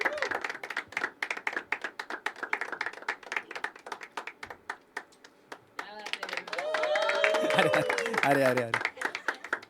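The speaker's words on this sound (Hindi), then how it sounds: "जोरदार तालियां तुषार भाई के लिए" Scattered hand claps ring out from the audience at a poetry open mic as the final performer, the show runner, is called up. The claps come in a dense patter, then give way to voices and cheering near the end.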